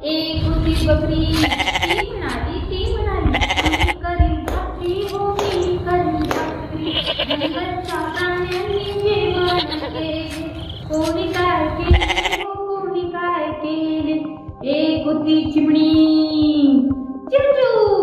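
A children's action song about jungle animals, sung by a voice that imitates a goat's bleat with wavering, bleat-like notes. The singing is loud and close, with light clapping in places.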